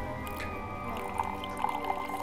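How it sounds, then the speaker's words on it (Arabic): Water pours and gurgles into a vessel indoors with small splashes and bubbling plops near the end, fairly close, over a faint hum of background music and no speech. "خرير الماء خرير الماء"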